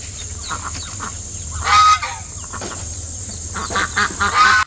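A mother duck calls out in loud, harsh honking quacks near her ducklings, two strong bursts separated by quieter calling, close to the listener over a steady background hiss.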